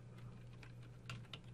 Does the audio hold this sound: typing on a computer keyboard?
yes